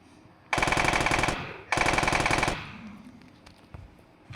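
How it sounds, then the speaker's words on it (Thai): Two long bursts of automatic gunfire from a gun in the video game Slaughter, loud and close, each lasting about a second, separated by a short pause and followed by fading echo. "มันก็แรงอย่างนี้ว่ะปืนนี้"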